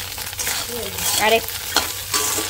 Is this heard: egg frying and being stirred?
yes